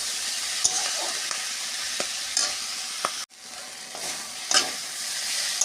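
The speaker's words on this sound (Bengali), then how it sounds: "পুঁই শাক ভাজাকে এপিঠ ওপিঠ করে কষানো হয়ে গেল" Malabar spinach stir-fries in a hot pan with a constant close sizzle, broken by scraping spatula strokes and clinks every second or so and a brief sudden dip before the frying resumes.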